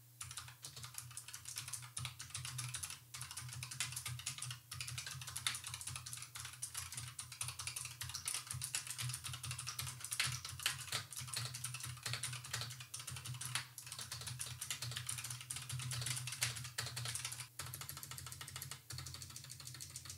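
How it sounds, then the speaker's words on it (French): Rapid, continuous clicky keystrokes from a Razer Huntsman Mini mechanical keyboard, close and crisp over a faint low hum, with no talking. "je vais faire un petit tapotage de clavier pour qu'on puisse voir ce que ça donne en termes de bruit"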